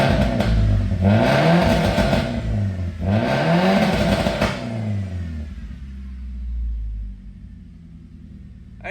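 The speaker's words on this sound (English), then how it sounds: "give it some revs for you guys" A Nissan B15 Sentra Spec V with a 3-inch exhaust hard-mounted to the body revs twice, each sharp climb rising to a loud, raspy roar before dropping back to a rumbling, slightly lumpy idle, heard up close.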